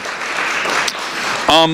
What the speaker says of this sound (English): can you please join me in another big round of applause to all our teams?